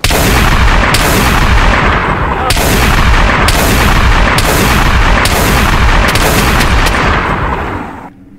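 Gunfire in the video game DayZ, a rapid series of loud, booming shots about every second, dense and close, with a brief fade at the end.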